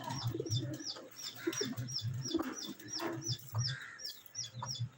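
A flock of about eighty pigeons kept in a loft, cooing in soft, low, repeated calls that overlap close by, with a faint rhythmic chirping running behind them.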